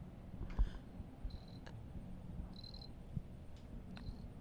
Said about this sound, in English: there's like a loud ass cricket somewhere behind you